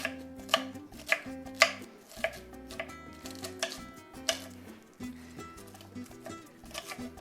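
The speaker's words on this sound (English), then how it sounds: "Chop this up a little bit more." A knife chops cabbage for coleslaw on a board in a steady run of close, crisp strikes, with a brief pause midway and over faint tonal background sound.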